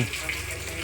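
Running tap water fills containers with a brief, steady gushing splash close by, lasting under a second.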